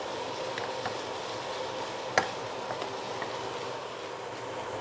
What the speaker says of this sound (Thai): ใส่หมูสับลงไปผัดค่ะ